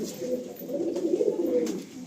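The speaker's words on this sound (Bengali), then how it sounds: "এই পেয়ারটা দেখে নাও ছাড়ছি" A pair of pigeons at a loft near an airport gives low, continuous cooing, fairly close and steady, with a faint flutter of activity and no voices.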